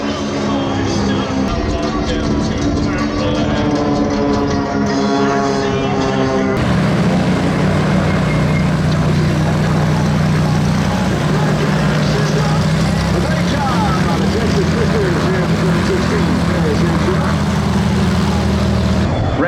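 Classic propeller aircraft, T-34s, make a formation pass at an airshow in Paris, Texas, as a loud continuous engine drone that rises and shifts, heard under steady commentary.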